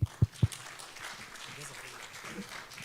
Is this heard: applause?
yes